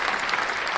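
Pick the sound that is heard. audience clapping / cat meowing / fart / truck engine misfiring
audience clapping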